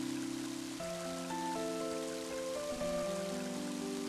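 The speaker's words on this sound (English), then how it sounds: "And now it's starting to rain." Rain in the game Mother 3 makes a steady broadband patter beneath sustained melodic music tones, even and continuous throughout.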